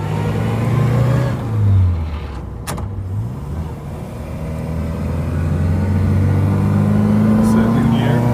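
A 1960s-era Morris Minor 1000 vintage car, interior view, its small engine droning and rising in pitch as it accelerates through the gears, loud and steady, with a brief dip in revs during a gear change.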